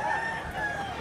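A rooster crows in one drawn-out, steady call at moderate distance among fighting cocks of White Choco and White Stag bloodlines, with faint background murmur.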